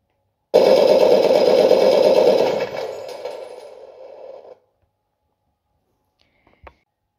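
A full metal MATO Sherman RC tank fires its toy machine gun effect: one loud, steady electronic rattle lasting about four seconds, fading toward the end, followed by a faint click.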